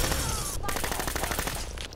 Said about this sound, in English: they have the freaking machine gun